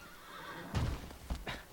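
Horse from the video game Shadow of the Colossus gives a short snort and whinny, two or three breathy bursts over a low hum of game ambience.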